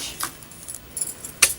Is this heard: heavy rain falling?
no